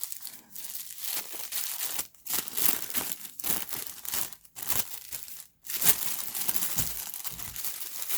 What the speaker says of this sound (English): Comes in this eco wrapping plastic bag, and here is the lens.